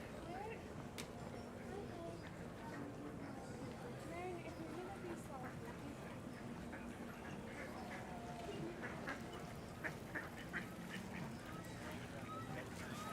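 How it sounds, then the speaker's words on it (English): Ducks quack at the Seaport Village Central Pond in San Diego on an evening outing, faint scattered calls under steady crowd chatter and outdoor background noise, with people talking nearby. "There's plenty of ducks here."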